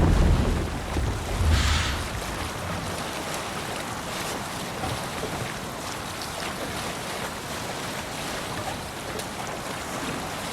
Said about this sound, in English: Need to row our way out.